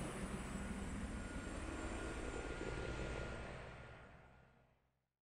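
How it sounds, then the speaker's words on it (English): A loud, continuous roar of rotor and engine noise from a rail replacement helicopter in Switzerland close by, holding steady before fading away over the last couple of seconds. "is a rail replacement helicopter."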